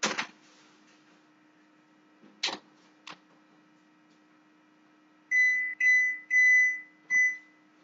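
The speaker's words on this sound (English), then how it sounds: "Set that for 30 minutes so that the timer goes off." An oven timer being set gives a few sharp button clicks, then four loud, steady electronic beeps in quick succession, close by in a quiet kitchen with a faint hum.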